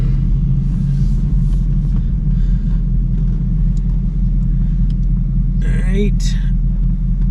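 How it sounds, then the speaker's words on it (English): A brief scraping squeal from a car's suspension as it turns, over a steady low engine rumble, with a voice speaking briefly. "you can hear a scrub when I'm cutting out of my driveway"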